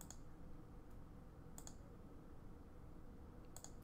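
Quiet computer mouse clicks during CAD face selection, a few sharp single and double clicks spaced across the stretch over a faint steady background hum.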